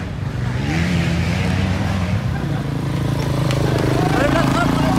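A motorcycle engine hums and revs steadily, loud and near, with a voice talking over it and the pitch rising toward the end.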